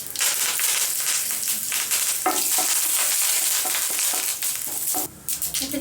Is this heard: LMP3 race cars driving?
no